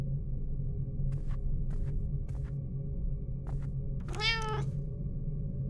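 A cat meows once, a short rising-and-falling cry heard inside a horror video game, set against a steady low ambient drone with a few faint ticks before it.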